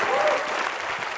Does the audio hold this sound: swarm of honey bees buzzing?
no